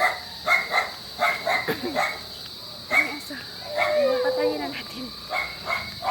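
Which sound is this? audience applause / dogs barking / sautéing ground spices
dogs barking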